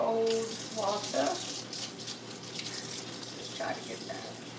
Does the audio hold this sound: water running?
yes